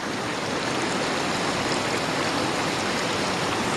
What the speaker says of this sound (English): This is the lovely river that we are hiking by.